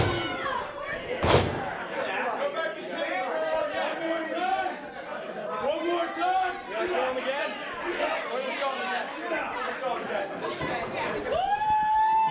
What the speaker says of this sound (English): Again, boos erupt for a Middlesex Express.